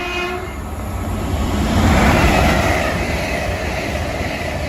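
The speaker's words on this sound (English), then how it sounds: "805003 working the 1136 Avanti West Coast Evero service from Holyhead to London Euston" An Avanti West Coast Evero unit, 805003 on a Holyhead to London Euston service, passes through Nuneaton station with a loud, close rushing roar that swells to a peak midway and then holds, no voices heard.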